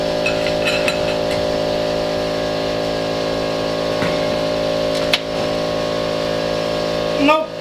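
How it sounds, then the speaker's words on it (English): A Honda Prelude brake rotor spins freely in a shop, giving a steady, droning mechanical hum with layered tonal whine that holds evenly throughout, plus a brief clank near the end. "Nope, just spinning the rotor."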